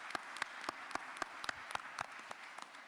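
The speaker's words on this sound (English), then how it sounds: "Let's give Mr. Quan Belcher and his team a wonderful round of applause." A small audience at a Rockdale County Board of Commissioners work session claps for Quan Belcher and his team, with sparse, distinct hand claps at a moderate distance that stay fairly quiet throughout.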